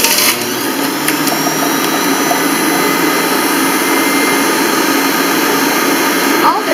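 Bullet Express electric juicing machine running steadily while pressing lemons and oranges, a loud continuous motor whir with grinding texture that holds for several seconds, a voice faintly underneath.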